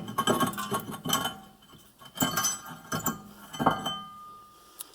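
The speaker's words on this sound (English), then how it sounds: "The rotor will just come right off." Rear brake rotor pulled and wiggled off the hub of a Volkswagen Golf MKIV, giving several sharp metallic clinks and scrapes in uneven bursts, close and fairly quiet, with no talking.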